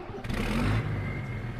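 Lizard tractor with a big cam engine in Farming Simulator, cranked up and running steadily with a low, droning rumble, close and fairly loud, alone without talk.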